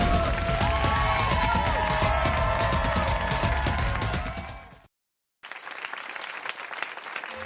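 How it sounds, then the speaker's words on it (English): A studio audience at a late-night talk show breaks into loud, sustained applause and cheering, clapping steadily before it fades out, cuts briefly to silence, then resumes more quietly. "I thought that might have got a round of applause."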